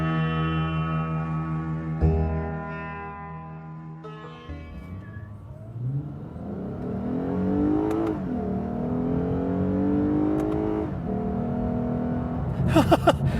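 A 2015 Lexus RC350 F Sport engine revs hard from a launch and climbs steadily in pitch through the gears, loud and close, with brief shifts and a final burst of roar.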